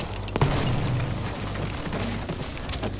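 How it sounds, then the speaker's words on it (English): A grenade goes off close by in the video game Battlefield V, a heavy booming blast with a low rumbling tail over about three seconds. "Oop, oh, grenade onto me."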